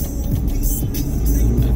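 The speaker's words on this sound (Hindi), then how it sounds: "ट्रैफिक लगता ही है यहाँ पे," Dense city road traffic near an IIT area in Laxmi Nagar: a steady, loud rumble of engines and tyres with passing vehicles and a constant hiss, heard from close by with no talking.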